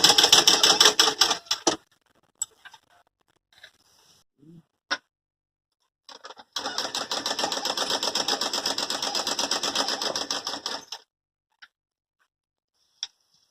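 A sewing machine stitches at home, shortening a long churidar. Two bursts of steady, rapid mechanical stitching sound close and clear: a short one at the start and a longer run in the middle. Brief clicks and quiet pauses separate them.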